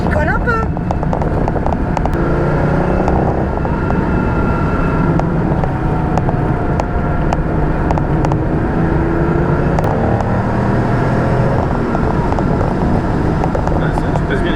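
A Porsche 930 911 Turbo drives with a steady, loud engine drone and road and wind rumble, its pitch shifting through gear changes; people talk over it throughout.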